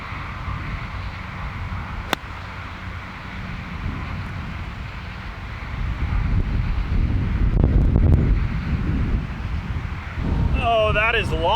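Wind buffets a microphone out on a golf course, a loud, continuous rumbling roar that swells in gusts and grows stronger midway, with a brief click and a faint voice at the end.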